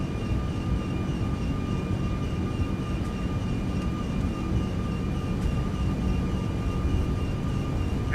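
Airbus A340-600 engines during climb in the X-Plane 12 flight simulator, a steady loud broadband roar with a faint tonal whine throughout, unchanging and alone.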